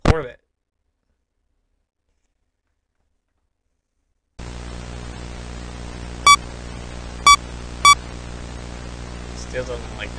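The computer terminal in the video game Five Nights at Freddy's 3: a steady hiss of static starts after a short silence, with three sharp electronic beeps sounding at intervals over the noise.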